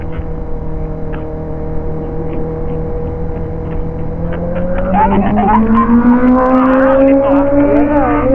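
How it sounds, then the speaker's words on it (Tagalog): A car passes on the road during a year-end ride along the Kaybiang route, its engine note rising and growing louder in the second half as it draws near, over a steady background of other traffic. "May kotse ulit isa."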